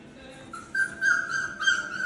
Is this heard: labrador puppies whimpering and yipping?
yes